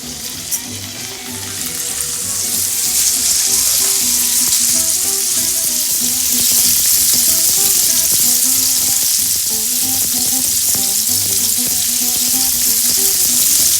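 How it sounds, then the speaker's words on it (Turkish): Meat searing in about two tablespoons of hot olive oil in a pan, a loud, steady sizzle and crackle that holds for the whole stretch with no voices. "etlerimi mühürlemeye başladım"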